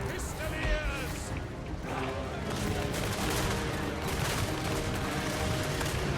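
Pistoliers in Total War: Warhammer 3 open fire on squigs, a rolling crackle of gunshots layered over battle noise and continuous talking.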